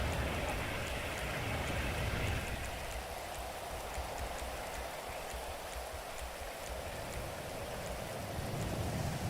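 Rain weather in the video game Grand Theft Auto V, a steady, even hiss of falling rain that fills the whole stretch at moderate loudness, with no voices over it.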